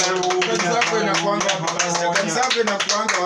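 Church congregation clapping hands in celebration, rapid continuous claps under loud preaching and singing, the voices dominating while the clapping stays steady throughout.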